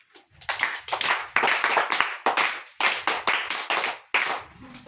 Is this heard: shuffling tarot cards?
no